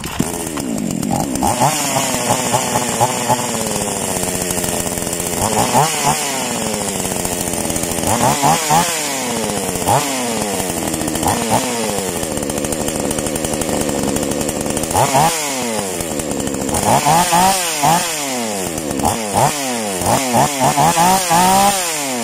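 A gasoline chainsaw engine, a Black Bull 58 model, runs loudly and steadily, its pitch repeatedly rising and falling as the throttle is revved.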